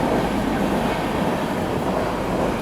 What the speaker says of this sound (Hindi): बैंगलोर राजधानी एक्सप्रेस एक तरीके से बैंगलोर राजधानी ओवरटेक करके जा रही है वंदे भारत एक्सप्रेस को